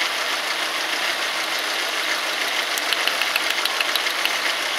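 A car engine idles with a cylinder misfire, giving a steady hissing engine noise with faint irregular ticking, continuous and fairly loud, with no talking.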